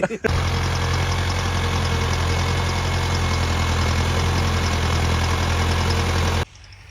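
A loud tractor engine idles steadily for several seconds at a farm home, a constant low chugging drone, before cutting off abruptly near the end.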